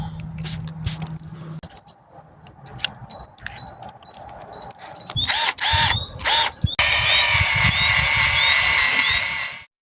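A power drill whirs and grinds in bursts, boring into wood just under a tree's bark, with scattered chirps and rustling around it. The drilling grows louder and steadier toward the end.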